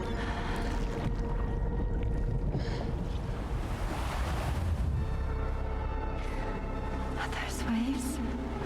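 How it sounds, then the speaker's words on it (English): Ocean waves washing onto a beach in the video game Death Stranding 2, a steady, full wash of surf with wind-like noise that continues unbroken throughout. "Waves? Yes, they are. Your room is connected to a beach."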